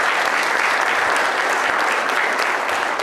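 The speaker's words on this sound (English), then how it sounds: "let's have a round of applause for our panelists today" An audience gives a round of applause for panelists at a robo-advisor finance panel session, with loud, dense, sustained clapping filling the room evenly throughout.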